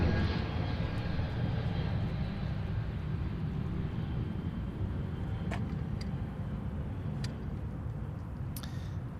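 An Airbus A321neo jet passes overhead near Seattle-Tacoma airport, its engines a broad, steady roar that slowly fades as it moves away.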